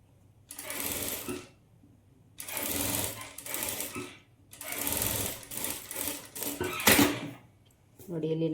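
Sewing machine stitching a princess-cut padded blouse, running in four separate bursts of close, loud mechanical whirring with short quiet pauses between them.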